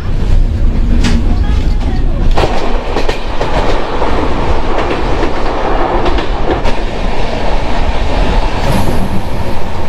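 An overnight Howrah to Ranchi passenger train running, heard from inside: a loud, continuous rumble with rhythmic clickety-clack of wheels over rail joints and occasional sharp metallic rattles.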